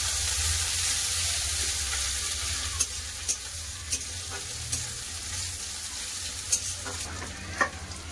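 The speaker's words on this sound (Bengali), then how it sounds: "কড়া গরম হয়ে গেছে, এবার দিলাম তেজপাতা, 5 ফোড়ন, কাঁচা পেঁয়াজ," Bay leaf, five-spice seeds, raw onion and slit green chilli hitting hot mustard oil in a pan give a steady close sizzle, with occasional light clicks of a spoon stirring.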